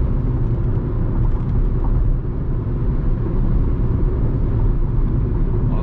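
Interior of a 2020 Ford Ka Sedan SE 1.5 manual cruising on a highway at a steady 100 km/h in fifth gear, about 2,750 rpm: a constant low engine drone and road rumble with no talking.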